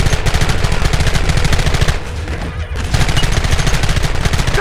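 Rapid, loud, continuous gunfire from many weapons in the Western video game Red Dead Redemption, a dense fusillade with a brief lull midway before the shooting resumes.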